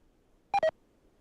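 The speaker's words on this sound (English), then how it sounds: "I can hear lots of beeping now" Two short electronic beeps from the game RimWorld in quick succession, clear and fairly close, with near silence around them.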